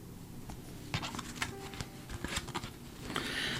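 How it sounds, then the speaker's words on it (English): Someone flips through a deck of Victorian Steampunk tarot cards by hand, producing soft, rapid papery slides and small flicks at close range against a steady low background hum. "Just kind of shuffling through these to give you an idea of what some of the cards look like."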